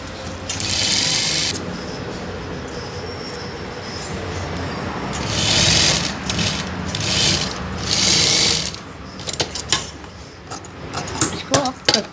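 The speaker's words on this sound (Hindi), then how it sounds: "इसको भी आप सिलाई मारते चले जाइए इसी तरह।" An electric sewing machine whirs in bursts and runs continuously while stitching along a long stretch of canvas for a ready-made saree, close and loud, with rattling mechanical clicks as it slows near the end.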